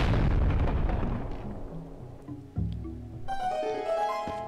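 A bomb blast in The Legend of Zelda: Twilight Princess, a loud burst that decays over a couple of seconds, followed by a second thud and bright ringing game tones.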